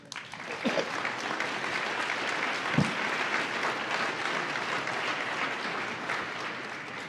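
Applause from an audience at an evening program honouring young people, a steady broadband wash of many hands clapping that holds for several seconds, with a couple of brief louder claps standing out.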